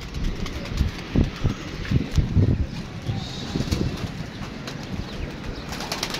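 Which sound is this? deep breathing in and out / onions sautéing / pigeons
pigeons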